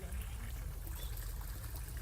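Water spills steadily from a restored pool waterfall at a Dominican Republic property in the Sosua–Cabarete area, a continuous close rush and trickle with a deep rumbling undertone that never lets up.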